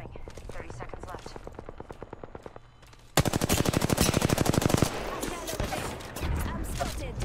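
Rapid automatic gunfire in Apex Legends during a ranked match near the closing ring, a long close burst of shots following earlier scattered fire, with a player talking.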